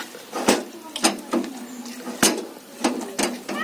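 Whisking cream in a pot to make ghee, heard as irregular clinking and scraping knocks of a utensil against the pot, close and fairly loud, several strokes in quick succession.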